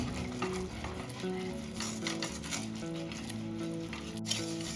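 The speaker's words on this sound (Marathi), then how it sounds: "आता मी गॅसची फ्लेम ऑफ केली आणि कंटिन्यू हलवत आहे" Continuous stirring of a peda mixture in a pan after the gas flame is switched off, a steady scraping and soft sizzling texture at close range with no talking.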